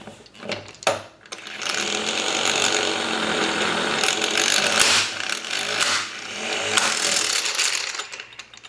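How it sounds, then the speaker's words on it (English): A Wagan 2257 12V impact wrench loosens car lug nuts with a sustained, loud buzzing hammer-rattle, starting after a short click and running several seconds with brief dips. "it takes 3 clicks for each lug nuts to open"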